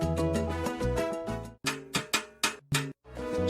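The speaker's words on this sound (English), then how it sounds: "On the 3 side of the clave, the basic cascada pattern sounds like this." Timbales playing the basic salsa cascada pattern on the shell side, aligned with the 3 side of the clave, heard as a close, clear run of sharp struck hits with accompanying pitched tones and a brief gap near the end.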